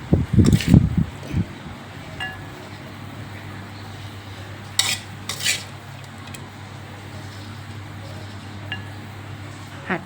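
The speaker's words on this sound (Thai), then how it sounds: "ตักใส่จานกันเลยนะคะ" Thai stir-fried crispy pork with holy basil is scooped from the pan onto a plate, with a burst of spoon-on-metal clatter at first, then soft scrapes and clinks over a low steady hum.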